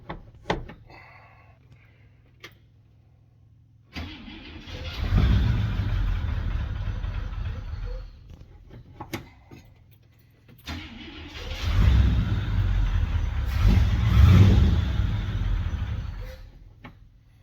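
A 1971 International Travelall 1210, sitting unused for 22 years, cranks and catches into a rough, rumbling run, cuts out, then fires again and runs louder with throttle surges.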